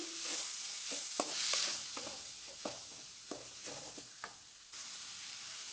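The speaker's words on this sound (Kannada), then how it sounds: "ಕಟ್ ಮಾಡ್ಕೊಂಡಿರುವ ಟೊಮೆಟೊ ಎರಡು ಟೊಮೆಟೊ ಕಟ್ ಮಾಡಿ ಸೇರ್ಕೊಳ್ತಾ ಇದ್ದೀನಿ" Chopped tomatoes hit a hot pan for chicken gravy, sizzling and frying steadily while a spoon stirs with several sharp scraping knocks, close and clear with no talk.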